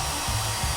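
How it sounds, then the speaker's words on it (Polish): A hair dryer blows with a steady, loud whooshing hum, running continuously and close by. "Suszarka na pewno pomoże."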